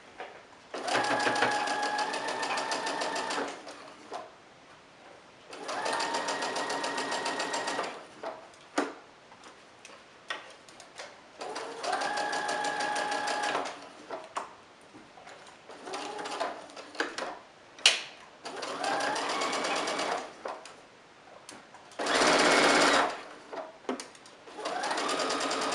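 A sewing machine stitches a fabric mask that covers an N95, running in several bursts of fast, even whirring, each a few seconds long, separated by short pauses with small clicks as the work is turned.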